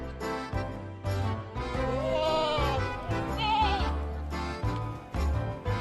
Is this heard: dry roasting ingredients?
no